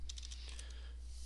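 Light, quick keystrokes on a computer keyboard tap out a short burst of clicks and then fade, faint against a steady low hum, with no talking.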